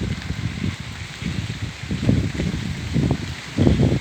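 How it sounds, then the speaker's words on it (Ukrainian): Steady summer rain patters and hisses outdoors in the city of Kyiv, Ukraine, with soft splashes on hard surfaces and a gentle rise and fall in intensity. "І у нас іде дощ."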